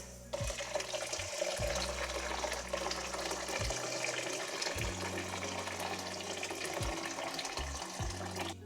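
Boiling water pours into a big bowl with sugar at the bottom while making kombucha at home, a steady close splashing stream broken by a few short pauses and restarts, with nobody speaking.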